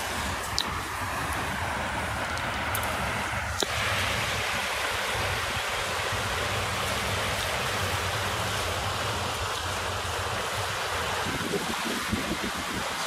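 A small stretch of the River Carron rushes steadily past, a constant broadband wash of flowing water with no breaks and no voices.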